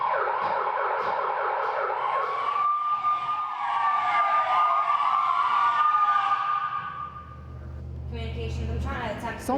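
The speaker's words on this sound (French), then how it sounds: "Sirène." A police car siren wails in a long rising and falling sweep over several seconds, loud and close, with voices speaking over it and a low engine rumble joining near the end.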